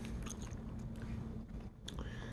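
Someone bites into and chews a crunchy candy from abroad, with close, steady crunching and mouth sounds and a few sharper crackles, no talking.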